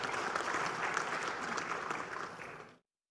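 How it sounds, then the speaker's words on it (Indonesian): Applause from the audience at a national dialogue event, a sustained wash of many hands clapping, fairly even and full, then cutting off abruptly near the end. "Kita tepuk tangan untuk kita semua yang telah hadir pada hari ini."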